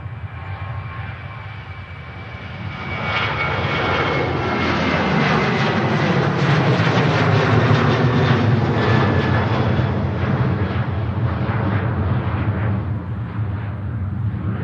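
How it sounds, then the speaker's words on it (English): Ryanair jet airliner rotating on departure from Manchester Airport, its engines swelling into a loud, sustained roar that peaks and holds while the plane climbs away, heard from a distance with no talking. "Ryanair on the departure, rotating pretty early."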